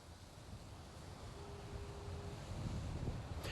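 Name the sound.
strong wind and rough ocean waves at a jetty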